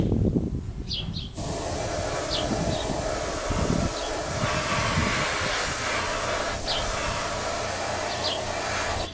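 Clearcoat hisses from a spray gun turned down low onto a Kawasaki track bike, a steady close airy spray running almost the whole time, with a brief quieter gap near the start and a few faint squeaks.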